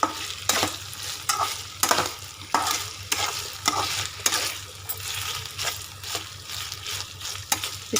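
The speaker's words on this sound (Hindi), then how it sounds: "अब हम इसे सिम पे थोड़ी देर मूव करेंगे" Soya chunks stir-fried on low heat in a pan, a regular series of sharp scraping and clinking spatula strokes about every half second over a constant gentle sizzle, close by.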